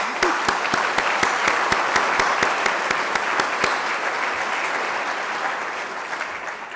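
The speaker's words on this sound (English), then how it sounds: "So let's give Sharon and WETA a round of applause." Audience at a Kennedy Krieger Institute tribute dinner applauds Sharon and the WETA staff, a dense, steady wash of clapping with a few sharp claps standing out, sustained throughout and slowly easing.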